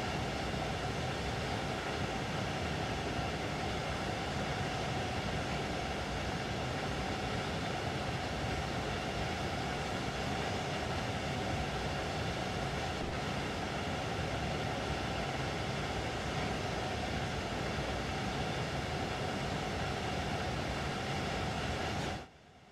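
An IC 2 double-deck intercity train in Train Sim World 3 runs steadily through a curve, giving a constant loud rumble of wheels and motors with no talking, until it cuts off abruptly at the end.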